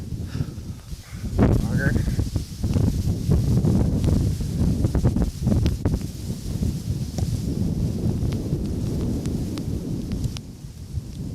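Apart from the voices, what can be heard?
strong wind blowing at winter campsite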